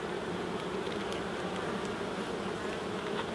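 Honeybees droning steadily in an opened hive during Apiguard varroa treatment, a dense continuous buzz close by and alone, with no talk.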